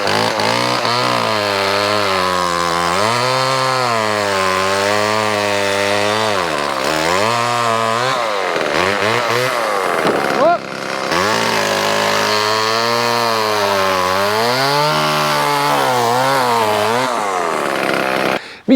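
A Homelite LX30 Bandit chainsaw with an unsharpened chain runs loud and close while cutting wood, its engine droning steadily and rising and falling in pitch as it revs and bogs.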